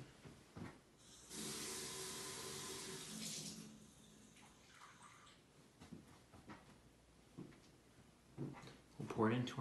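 Tap water runs and pours into a half-cup measuring cup for a math measurement demonstration, a bright hissing splash for about two seconds, followed by quieter handling clatter and a person talking.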